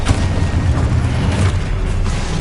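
Confringo fire spell blast in the video game Hogwarts Legacy, a dense, rumbling boom sustained across the whole moment with a heavy low-end roar and no voices.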